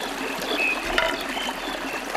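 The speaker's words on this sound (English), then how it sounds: "See how the water is flowing. Yeah, it runs really fast." A stream swollen by rainfall rushes and trickles in a steady broadband wash with small splashy bursts, fairly close and continuous, with no voices.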